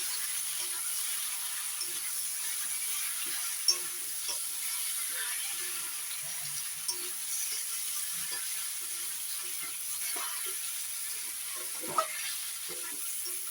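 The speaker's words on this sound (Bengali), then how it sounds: "জিরে গুঁড়ো দিয়ে একটু নাড়াচাড়া করে নেবো।" Cumin powder is stirred in a cooking pan for a fish curry over a quiet, steady background hiss, with only a few sparse, soft utensil taps and scrapes.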